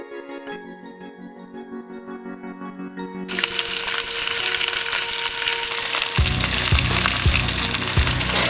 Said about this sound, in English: Rube, if you sit by the pot it will cook quicker.